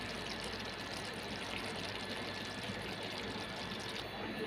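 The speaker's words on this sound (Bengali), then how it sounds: "যতটুকু পানি লাগার আমি দিয়ে দিলাম।" Water pours into fish curry frying in a pan, a steady close hiss and trickle that runs unbroken and fairly quiet throughout.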